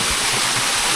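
A natural waterfall along a rural Thai trail pours with a steady, loud, broadband rush of falling water, close and continuous, with no voices.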